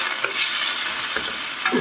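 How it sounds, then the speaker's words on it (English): Chicken sears in hot oil in a pan, a steady close sizzle with brief bursts of crackling as pieces are stirred, no talking. "so that's sizzling away, and I'll just make sure that's seared over on all sides"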